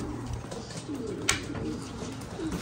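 Racing pigeons coo softly inside a loft, low murmuring calls over a dull background hum, fairly faint and continuous.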